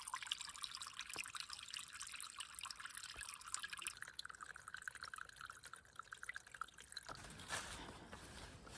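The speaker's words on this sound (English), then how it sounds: "beautifully engineered water source." Water from a trailside spring source trickles steadily and faintly, a soft continuous splashing with occasional small drips, heard close by in an otherwise quiet outdoor setting.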